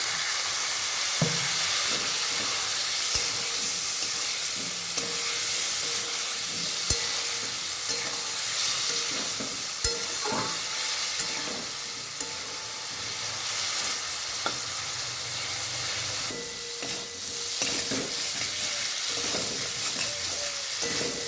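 Spice masala being sautéed in a pan for a potato and egg curry, with a steady sizzle under repeated scraping and clinking of a spoon against the pan over a long stretch, no voices.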